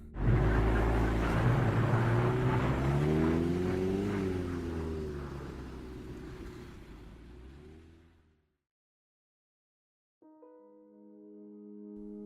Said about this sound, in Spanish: subí a mi auto y conduje en dirección a la casa del conductor del accidente